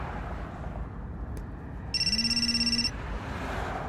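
A telephone gives a single loud, warbling trill lasting about a second, close by against a steady low rumble.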